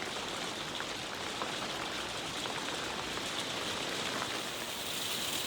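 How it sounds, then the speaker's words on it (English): Steady, dense pattering of hail falling continuously, a hissing rattle of countless small impacts with no voices. "it's not rain, it's hail"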